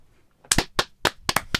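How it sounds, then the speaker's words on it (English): Five sharp hand claps, loud and close, the first doubled and the rest spaced at a slightly uneven rhythm, with near silence before them. "He claps himself."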